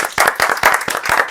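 An audience applauds a quiz winner on a gaming talk show, brisk, loud hand clapping in uneven bursts of claps, fairly close and with no one speaking.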